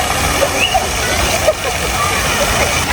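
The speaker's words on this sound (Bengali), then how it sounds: "এটা একটা ঝর্ণা করেছে" A decorative water fountain in a park splashes steadily in the background, a constant rushing spatter heard under close talking.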